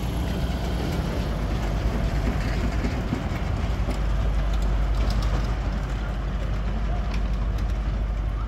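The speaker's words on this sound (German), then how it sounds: "Und die Bimmelbahn fährt auch noch." A tourist road train rolls along the Playa de Palma promenade in Mallorca with a steady, continuous rumble and low engine drone, fairly close and unbroken throughout.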